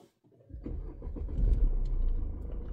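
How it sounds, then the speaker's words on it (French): A Mercedes E-Class W213 diesel engine starts after a brief starter whir, then settles into a close, steady diesel idle rumble. "On entend le diesel."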